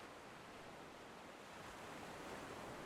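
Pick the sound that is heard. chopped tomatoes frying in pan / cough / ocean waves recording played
ocean waves recording played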